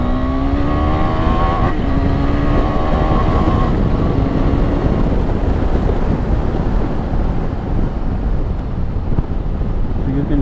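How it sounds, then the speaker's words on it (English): An Adventure 390 motorcycle fitted with a new 47-tooth rear sprocket runs and revs through first and second gear, its engine note climbing in pitch and then dropping at each shift, loud and steady with wind buffeting the microphone. "So I am starting the bike right now to test the first gear and second gear"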